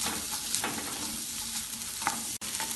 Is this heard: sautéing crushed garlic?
yes